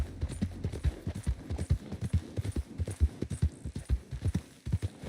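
Horse hooves clip-clop steadily in Red Dead Redemption 2, a close, even rhythm of distinct hoofbeats on the ground from the player's new horse, with no talk over them.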